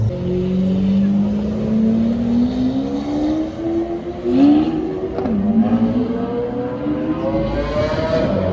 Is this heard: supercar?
yes